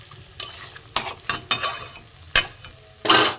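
A spatula scrapes and stirs dry banana flower curry in a pan, giving six sharp, close scraping strokes at uneven intervals with a faint sizzle beneath.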